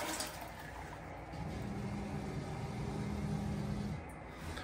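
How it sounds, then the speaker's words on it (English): A shower sink pump kicks on and runs steadily for a few seconds with a low hum, then cuts off, alone without talk. "Did you hear the pump kick up and run?"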